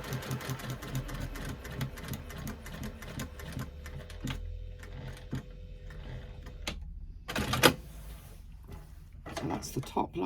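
Sewing machine stitching a zipper pocket into a bag lining, a rapid steady mechanical whir and clatter up close that stops and restarts, with a person talking over it.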